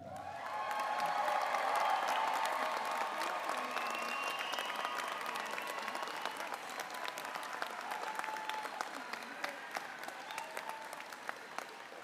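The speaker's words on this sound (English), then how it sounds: "Now please allow them to be the first to celebrate your accomplishment with a round of applause." Graduating audience at the Lake Washington Institute of Technology 2023 commencement ceremony breaking into sustained applause that swells quickly, then slowly thins out, with some scattered cheers from a large hall crowd.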